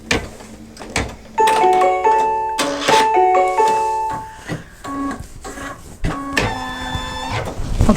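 Embroidery machine running a placement stitch for fusible fleece on hooped stabilizer, a close whirring stitch drive with pulsing hum and repeated beeping tones, several short runs separated by clunks and pauses.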